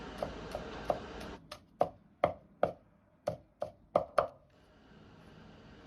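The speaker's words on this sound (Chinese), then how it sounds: "先拍破再剁碎。" Garlic and ginger chopped with a kitchen knife on a board: a brief patter of light cuts, then about nine sharp, separate chops in an uneven rhythm, close and clear against a quiet room.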